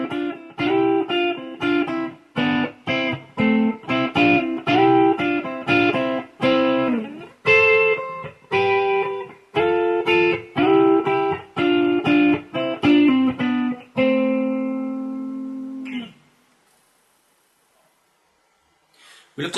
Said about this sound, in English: I'm going to show you how you can add simple harmonies to your soloing technique